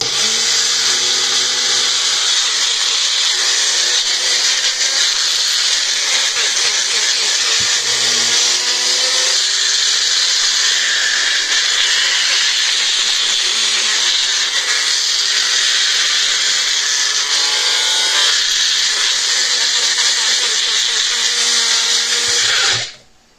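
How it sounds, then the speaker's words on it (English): A kitchen grinder loudly whirs for over twenty seconds, pulverising ingredients into powder for pancakes, a steady high-pitched motor drone that cuts off abruptly at the end, with no voices. "I like to grind it up until it gets powdery"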